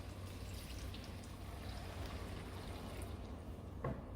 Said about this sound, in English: And we're going to add our water.